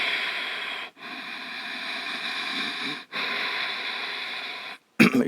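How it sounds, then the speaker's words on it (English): Ujjayi yoga breathing through the throat with a partially closed glottis: a loud, steady, hissing rush of air in long strokes, broken by two brief pauses. "The Ujjayi breath is the breath from the throat."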